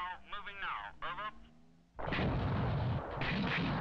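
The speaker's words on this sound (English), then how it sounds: "First to engage will almost certainly be the artillery." Artillery fire booms out for two seconds in a British Army training film about fighting in villages, a loud, dense barrage after a radio-style voice speaks.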